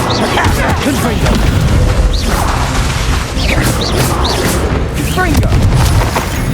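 Repeated blasting-spell explosions in Hogwarts Legacy: loud booms and crashing impacts with whooshing bursts, dense and continuous over game music and effects, with a voice shouting in between.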